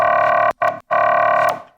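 Distorted synth sustain bass built with effects in an evil, dubstep-style patch, heard as two loud, buzzy sustained notes broken by brief gaps, the last one fading out.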